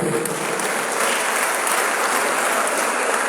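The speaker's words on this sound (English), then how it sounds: "we welcome our guest lecturer with a resounding clap" A lecture-hall audience gives a sustained, dense round of applause to welcome a guest lecturer, a forensic anatomist, at a university faculty public lecture; steady and fairly loud throughout, with no voices over it.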